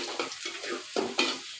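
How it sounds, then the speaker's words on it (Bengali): Onion stir-fried in a pan, brief scraping stirs over a soft sizzle, close and fairly loud, in a few quick strokes. "এখন পেঁয়াজটা অনন্তপর নেড়ে চেড়ে ভালো করে ভেজে নিতে হবে।"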